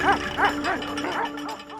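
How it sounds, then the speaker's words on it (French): An aggressive livestock guardian dog protecting its flock in the Alps gives a quick series of about five loud, close barks, each a sharp bow-wow. "interrompue soudainement par un chien en liberté apparemment agressif."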